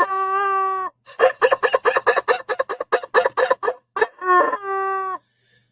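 Golden toy chicken squawks loudly and close, a long crowing cry followed by a rapid burst of choppy clucks, then a final drawn-out crow before cutting to silence.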